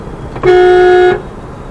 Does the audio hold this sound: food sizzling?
no